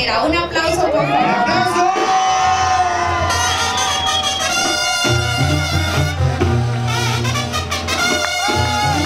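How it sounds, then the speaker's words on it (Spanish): Crowd at a public celebration in Felipe Carrillo Puerto, Durango, cheering and whooping loudly and continuously over music, with voices shouting throughout. "Un aplauso, por favor."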